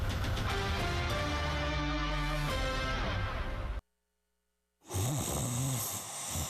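A person snores in deep rhythmic rasps, loud and close, then breaks off into a brief silence before resuming, in a mattress advertisement.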